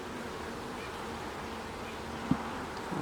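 Honeybees hum steadily at an open hive during a brood frame inspection, a low continuous drone with a single brief knock near the end and no talking.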